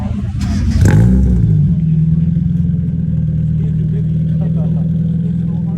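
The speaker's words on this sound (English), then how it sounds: "I heard the car turn on like before the exhaust." A Mazda Miata engine at an outdoor car meet starts with a sharp burst and revs once, then settles into a steady, loud, close idle rumble while voices talk nearby.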